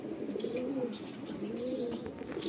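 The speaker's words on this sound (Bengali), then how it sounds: "খুব সুন্দর একটা পায়রা" A Madrasi pigeon, an Andhra cross, gives soft rolling coos, two or three low throaty phrases close by, with faint chirps in the background and no talking.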